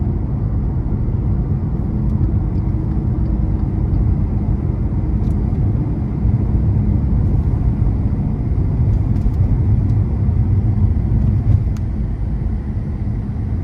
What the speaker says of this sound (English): But I'm gonna try to give it a good pull getting on the interstate here.